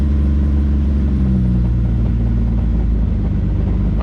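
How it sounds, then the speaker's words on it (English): A Toyota Supra engine idles loud and close with a heavy, steady low rumble and a faint metallic rattle from a loose clutch fork riding underneath. "that rattling y'all hear is the clutch fork."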